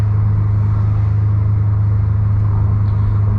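A 350 hp Subaru WRX STI engine pulling hard in third gear, with a loud, steady, deep drone and constant road rumble throughout, heard from inside the car with no speech.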